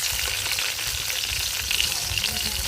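Carrots fry in a pan for vegetable pulao, a steady close sizzle of hot oil with occasional stirring, continuous and even without speech.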